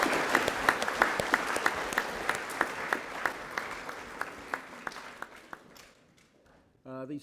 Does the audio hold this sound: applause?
yes